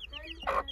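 A hen gives a short, close cluck among a small flock of backyard hens with tiny chicks, with faint voices in the background.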